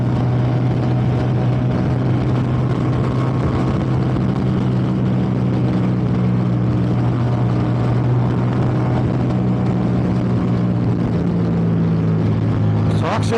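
A 2023 Ducati Diavel V4 cruises at about 80 mph on a cold freeway, its steady engine drone heavy with wind rush, loud and continuous throughout, with no speech.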